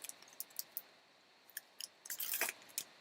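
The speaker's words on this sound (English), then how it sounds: "The packs they're easy to tear open, but they're giving me flack here." Foil packs of 2021 Panini Donruss Optic baseball cards being torn open by hand, giving quiet crinkly rips and sharp little clicks in scattered bursts, close and soft with no voices.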